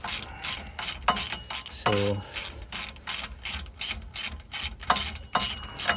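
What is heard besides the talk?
ratchet turning a bolt on a Honda Fit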